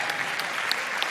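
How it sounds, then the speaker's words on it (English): Brief, moderate clapping from an audience at a TED talk, a short steady patter without voices. "Y'all can clap for that."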